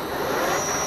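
A metal lathe starting up for a facing cut, a loud broad whirring roar with a high steady whine as the machine spins, brief and continuous.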